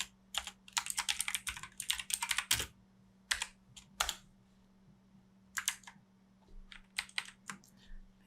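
Bursts of typing on a computer keyboard while a chapter of text is written into a Git-tracked project, quick clattering runs of keystrokes separated by short pauses, close and fairly loud with no talk.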